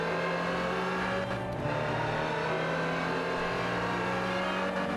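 A Land Rover SUV's engine in Forza Horizon 4 hums steadily at cruising speed with a brief shift or dip, constant and fairly close, with no talking.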